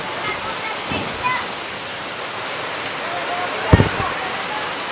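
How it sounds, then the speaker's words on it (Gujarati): Heavy rain pours in a constant rushing wash, with faint voices and a couple of short knocks partly buried beneath the downpour. "વરસાદ ફૂલ વધી ગયો છે ભાઈ તમે જોઈ લો એકવાર"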